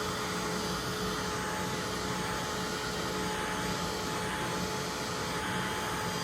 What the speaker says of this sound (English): It does not take long for this to dry, especially if you're using like a hair dryer heating tool.